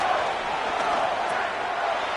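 A football stadium crowd at a Bears game roars in a continuous, broad wash of cheering, steady and fairly loud with no distinct voices.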